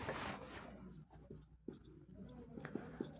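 Chalk or marker scratches and taps quietly on a board during a Class 12 physics lesson on electrostatics, in short strokes and dots, faint and close, with soft rubbing between marks.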